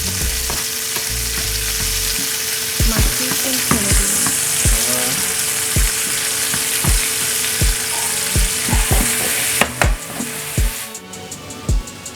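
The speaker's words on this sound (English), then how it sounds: "After you get a nice skin, a nice sear on one side of your salmon" Salmon sears in a hot pan with a bright steady sizzle, while sharp utensil clacks and taps land at irregular intervals close by and no one speaks.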